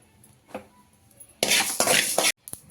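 Coriander seeds are fried and stirred in a pan, with faint scrapes early on and then a loud, close rattling sizzle lasting almost a second. A final short clatter follows.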